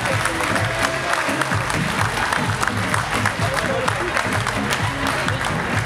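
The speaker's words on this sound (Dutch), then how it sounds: "Graag een applaus voor Martin Katsjanov" A crowd at a national championship final ceremony applauds in steady, dense clapping that stays loud and even throughout.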